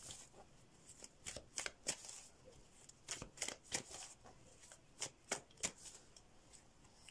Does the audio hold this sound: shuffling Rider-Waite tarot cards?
yes